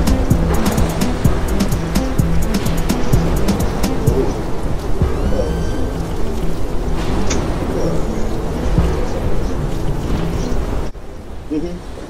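Heavy rain from a tornado-producing thunderstorm roars steadily, heard from indoors by a cracked, leaking window, with a low rumble of thunder beneath it, dense and loud, cutting to a quieter hiss near the end.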